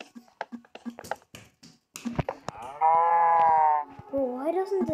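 A cow in the Minecraft video game gives a sustained, wavering moo midway, then a shorter bending call, after a run of clicky game sounds and brief talk.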